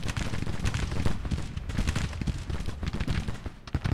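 Massed musket volleys ring out in the Civil War strategy game Grand Tactician, a dense continuous crackle of overlapping shots and rumbling battle noise, loud and steady for the whole stretch with no voices.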